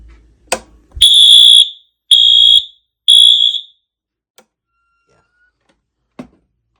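A fire alarm system on a drill test sounds three loud, piercing electronic horn blasts, each about half a second to a second long, separated by short gaps, with a few faint clicks before and after.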